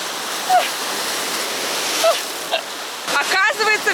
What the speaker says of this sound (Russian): Смотрите, какие сильные волны